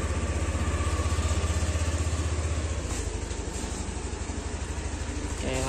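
A Yamaha New Aerox scooter fitted with a keyless ignition idles close by, a steady, fast, even engine pulse that softens slightly partway through and then picks back up.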